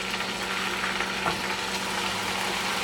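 Steady, close sizzling as scallops sear in hot oil in a pan, a continuous crackle with a faint clink partway through.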